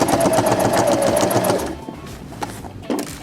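A sewing machine stitches a uniform up close, a loud rapid rhythmic whirr for about a second and a half, then it stops and a few soft clicks and handling sounds follow.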